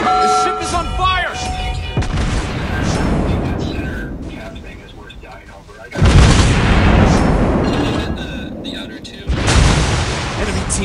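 Heavy ship cannon fire booms in a naval battle video game, deep rumbling blasts swelling loudly over steady game ambience, with in-game voices heard alongside.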